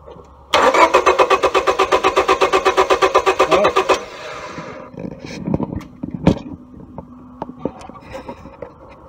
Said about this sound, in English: Okay, crank it again.